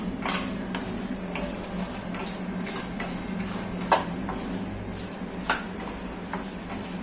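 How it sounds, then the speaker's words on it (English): Three red chilies roast in a pan, heard as a steady run of light metallic clinks and scrapes from stirring, with a few sharper taps standing out. "Let's add 3 red chilies and let it roast for some time."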